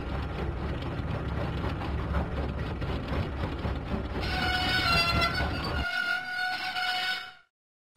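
A train engine runs along the track in a Thomas and Friends video game, rumbling with a steady clatter. A horn or whistle then sounds as the rumble fades, and everything cuts to silence at the end.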